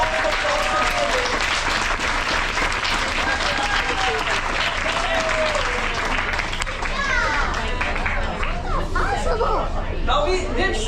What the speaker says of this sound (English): A big round of applause for David.